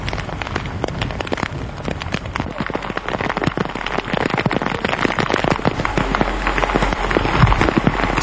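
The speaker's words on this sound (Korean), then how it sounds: "여름 소나기다. 굵은 빗방울이 더위에 지친 볏잎을 시원하게 씻어낸다." Heavy summer rain shower pours steadily, dense drops pattering and crackling on rice leaves and surfaces close by, building slightly louder toward the end.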